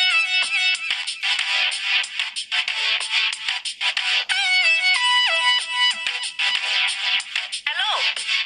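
A phone ringtone plays continuously, a bright electronic melody repeating in loud rhythmic bursts with no voices over it.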